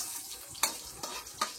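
Onions sizzle in hot oil in a pan, a soft steady frying hiss with a few brief scraping stirs.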